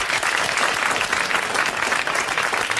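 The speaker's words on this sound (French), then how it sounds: "Vous l'applaudissez." A studio audience at a 1982 French radio panel show claps loudly and densely in a brief burst of applause.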